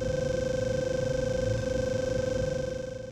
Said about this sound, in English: When the tracing line is fuzzy, the audio will contain static.